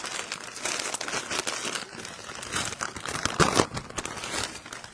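Scissors cut open a plastic bag of frozen sweet potatoes in a kitchen cooking class, making close, moderately loud crinkling and rustling bursts throughout, with one sharper crackle near the end.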